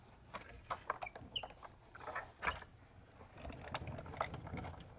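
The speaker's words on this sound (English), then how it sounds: "Let's run that through the machine." Hand-cranking a Big Shot die-cutting machine to press paper through a flower die makes creaking, ratcheting mechanical sounds with uneven bursts and rattles, close and fairly soft, with no speech.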